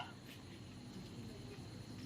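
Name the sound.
crickets chirping around a resort at evening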